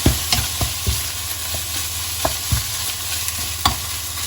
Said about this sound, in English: Now kimchi all in, and voila, stir fry.